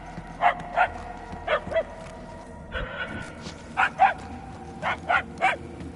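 Dog barking in the Guardians of the Galaxy video game, a series of short bark pairs at moderate distance, spaced irregularly over a quiet background hum.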